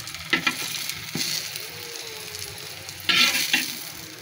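Eggplant frying in a pan sizzles softly and continuously while a utensil scrapes and stirs in several bursts, close up, with no voices.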